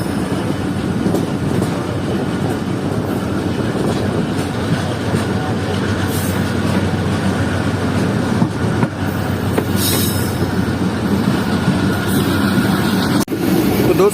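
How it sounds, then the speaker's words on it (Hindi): Zikriya Express passenger train rolling steadily along the line toward Multan, a continuous loud rumble of wheels and carriages heard from on board, with faint squeals and rattles throughout. "अब ट्रेन आगे बढ़ रही है मुल्तान की तरफ"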